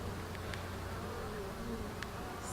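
Honey bees buzzing at a hive frame, a dense continuous drone with a few sharper passes of individual bees nearby, no talk over it.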